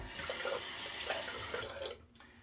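A tap runs steadily into a sink during a Proraso shaving soap lathering session, a close, continuous splashing stream that cuts off abruptly after about two seconds, with no talking.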